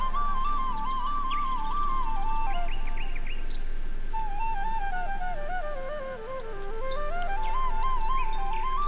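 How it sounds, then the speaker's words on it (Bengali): Birds chirp and whistle in leafy village greenery, one melodic call sliding up and down in repeated phrases while other chirps scatter around it, steady and moderately close with no talk. "মাঝে মাঝে পাখির কিচিরমিচির শব্দ কার না ভালো লাগে"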